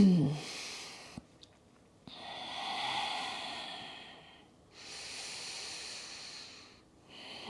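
Slow, steady breaths during a yoga hip opener pose, two long soft exhalation-like hisses with quiet pauses between, close and gentle with no talking.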